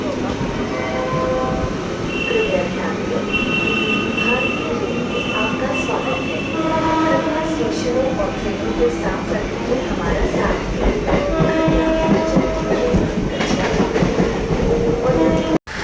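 A passenger train runs steadily on its rails toward Bali station, its continuous rumble and clatter filling the whole span with a loud, close presence that ends abruptly at the end.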